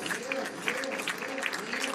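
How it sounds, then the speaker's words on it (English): A standing dinner audience claps in a dense, continuous burst of applause at a formal evening event, heard close and lively with a voice speaking over the clapping. "Rise up and give him a big round of applause."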